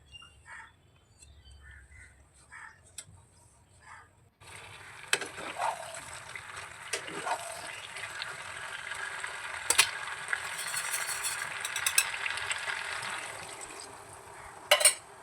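Water poured into a pan of chicken kofta curry and stirred, a quiet scraping and sloshing that starts after a few near-silent seconds, with faint clinks of a spoon against the pan.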